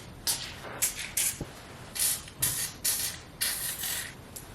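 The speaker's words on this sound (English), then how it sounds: "I'm just going to spray it where my rollers are inserted in the frame of the door." White lithium grease sprayed onto garage door rollers and tracks in a series of about eight short, close hissing bursts with brief pauses between them and no voices.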